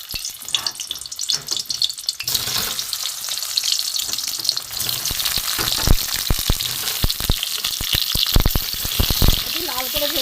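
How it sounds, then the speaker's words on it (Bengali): Boiled small potatoes frying in oil in a wok: a quieter start gives way to loud, crackling sizzle with sharp spatters and stirring clatter building through the rest. "এগুলো আমি একটু ভেজে নেব।"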